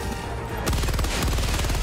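Stalwart machine gun in Helldivers 2 opens up in a sudden loud, rapid burst of automatic fire, with continuous rattling shots pounding on for over a second.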